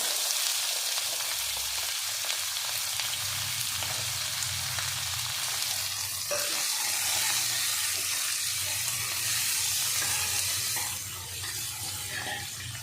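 Onion goes into cumin seeds sizzling in hot oil for a dal tadka, producing a loud, continuous frying hiss that shifts slightly midway and eases toward the end.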